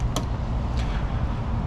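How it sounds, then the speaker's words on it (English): Trunk of a 2024 Mercedes-Maybach S580 opening, with two short mechanical clicks a fraction of a second apart over a steady low background hum. "But let's pop the trunk and talk about trunk space in this car."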